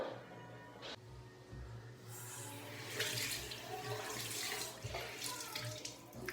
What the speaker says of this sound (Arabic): ومن بعد غادي نغسل وجهي